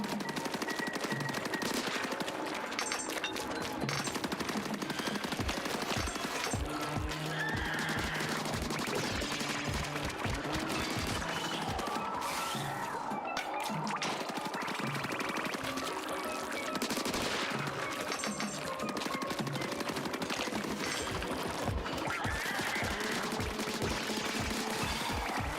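Rapid gunfire in the Splatoon video game, a newly picked-up weapon firing repeated bursts over a dense layer of game music and effects, steady and loud throughout.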